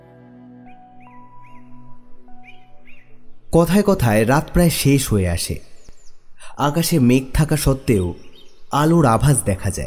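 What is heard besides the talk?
birds calling at dawn, audio drama effect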